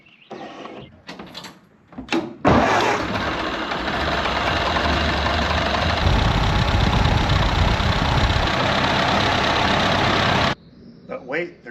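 A Ford Model A engine, its cooling system freshly filled with antifreeze, cranks over and starts after a few brief sounds, then settles into a loud, steady, close idle for several seconds before cutting off.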